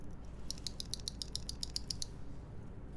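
Typing on lubed switches of a Smith and Rune Iron 165 mechanical keyboard with a polycarbonate build: a quick, even run of about a dozen light clicky keystrokes, faint and close, with no talk.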